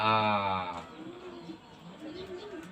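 A caged competition songbird gives a brief harmonic call at the start, followed by softer chirps amid background chatter and murmuring voices.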